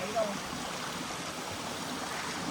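Steady rushing water pours from a cave at a hidden waterfall, a continuous close wash of flow with brief voices over it.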